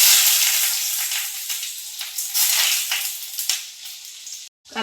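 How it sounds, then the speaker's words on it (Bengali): Panch phoron spices, dried red chilli and bay leaf sizzling steadily in hot oil in a pan, a loud, close, continuous hiss that fades slightly before cutting off abruptly near the end. "এদিকে তেলটা আমার গরম হয়ে গেছে। 5 ফোড়ন, শুকনো লঙ্কা, তেজপাতা দিয়ে দিচ্ছি।"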